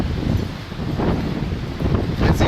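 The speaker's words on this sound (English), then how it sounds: "Wind's really kicking up." Strong windstorm gusts roaring over a house roof, a loud broadband rushing that surges and buffets the microphone for the whole stretch, with no voices.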